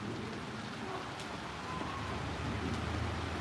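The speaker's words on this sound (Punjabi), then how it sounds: "ਇੰਨਾ ਮੀਂਹ ਪੈ ਰਿਹਾ ਹੈ" Steady, dense rain hissing across the whole stretch, a continuous broadband wash with a low rumble underneath and no voices.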